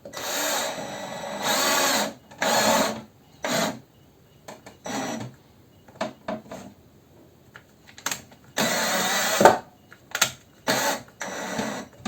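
A power drill drives a screw into wood while building a spice niche in a woodworking shop, heard as several loud whirring bursts of a few seconds each, separated by short pauses and ending in a sharp click.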